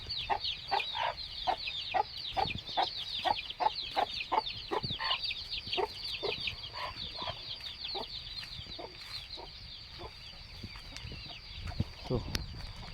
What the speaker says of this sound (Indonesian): Wah, banyak ayam juga di sini